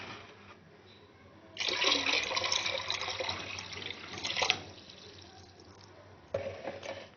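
About 2 liters of water runs and splashes into a cooking pot in a louder stretch of a few seconds, then quiets and briefly resumes, with no talking.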